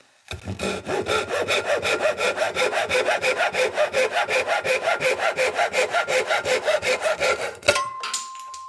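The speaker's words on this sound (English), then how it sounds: "this is a scrap piece of Douglas fir. Let's do the crosscut first." A hand saw crosscutting a scrap piece of Douglas fir, with brisk, evenly spaced rasping strokes in a fast steady rhythm, close and loud, ending with a short tonal ring after the cut.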